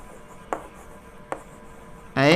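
An example is written on a classroom board: two faint, brief taps, then a short, louder scratchy stroke.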